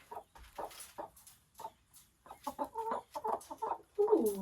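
Hen clucking and fussing while being coaxed onto a backyard coop's roosting bar, a string of short, close clucks and squawks that grow busier and louder toward the end.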